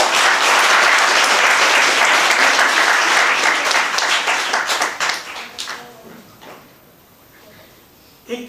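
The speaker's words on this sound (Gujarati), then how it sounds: "તો એ બધા માટે તાળીઓ થઈ જાય છે." An audience at a guest speech breaks into loud, dense applause that holds strong for about five seconds, then thins out and fades to scattered claps and quiet, with a last brief clap near the end.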